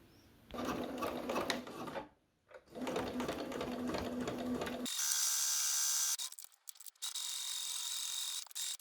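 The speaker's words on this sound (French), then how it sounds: "on va passer un point droit ici, ici" A sewing machine stitches a straight seam joining two pinned fabric pieces for a summer tote bag, running in steady bursts with short pauses between them, close and loud with no talking.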